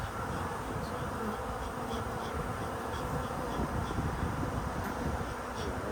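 Honeybees buzzing steadily around a newly set-up hive fed with sugar water, a dense continuous drone of many insects close by with individual bees whining past, no talking.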